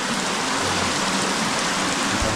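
Heavy monsoon rain in Konkan pours down steadily, a dense, loud hiss of water with no pauses, close and all-enveloping.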